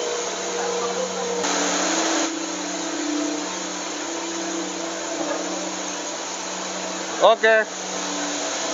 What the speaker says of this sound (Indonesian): Nyampurnya pakai mixer.